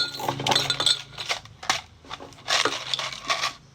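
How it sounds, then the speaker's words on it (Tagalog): Ice cubes drop and clatter into a glass for iced coffee at home, a series of close crunchy clinks in irregular bursts. "Chance, Lagyan na namin ng ice."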